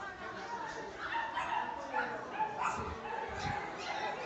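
Teddy poodle puppies in a dog shop give small, soft yips and whimpers at intervals, faint and close, mixed with quiet shop background.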